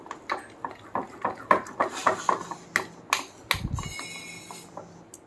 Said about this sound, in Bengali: সুজিটাকে আমি চিনির গুঁড়োটা দিয়ে ভালো করে মিশিয়ে নিয়েছি